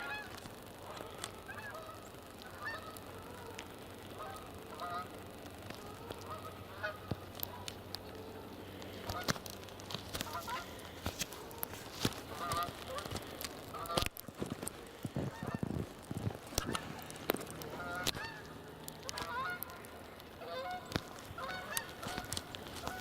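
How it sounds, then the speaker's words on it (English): Geese honk repeatedly amid outdoor ambience, a scattered series of calls growing busier and louder partway through, mid-distance. "So a few geese flying around,"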